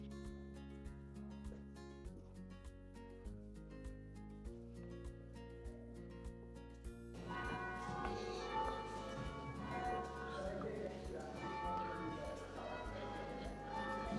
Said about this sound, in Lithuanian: Varpai skamba